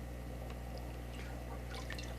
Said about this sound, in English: draining it with the airline siphon, which is this